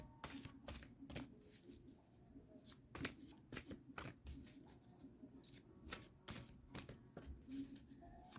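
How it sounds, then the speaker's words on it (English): Tarot cards shuffled by hand in a steady run of crisp riffling patters and soft slaps, close and fairly quiet, with no talking. "Now I'm going to pull one final card."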